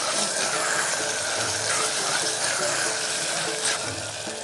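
Mutton, onions and ginger-garlic paste sizzle steadily in hot oil in a home kitchen, a constant close-up crackling fry with faint stirring noises and no talk.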